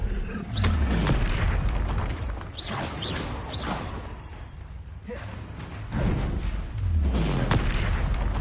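Explosive booms from repeated Confringo spell blasts in the video game Hogwarts Legacy, loud low thuds with whooshing bursts recurring every few seconds over a dense, busy combat background.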